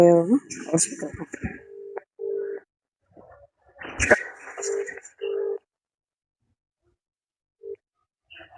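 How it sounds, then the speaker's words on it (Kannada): Electronic telephone tones sound while a phone call is being placed, steady beeps that repeat with gaps between them, along with brief bits of voice and a clear, close tone near the end. "ಸಿದ್ದಪ್ಪ ಫೋನ್ ಹಚ್ಬೇಕು"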